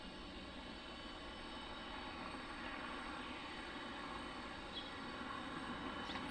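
Boeing 717 and 757 airliners at Detroit airport give a steady, distant jet engine roar that stays even and fairly faint, with no talking.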